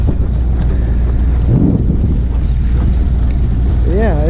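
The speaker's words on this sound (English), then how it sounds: "But it is windy." Strong wind buffets the microphone in a constant loud roar out on a boat on the water, with a few faint voices beneath it.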